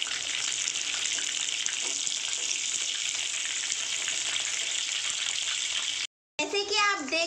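Prawns frying in hot oil for a crispy prawn fry give a steady, close, dense sizzle that runs unbroken for several seconds, then cuts out briefly before a voice comes in at the end.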